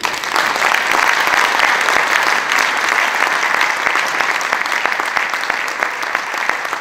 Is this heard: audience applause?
yes